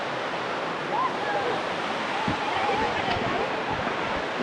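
At Araku's Thatiguda Waterfall, falling water makes a loud, constant wash of noise, with wind buffeting the microphone. A few indistinct voices mix in under the roar.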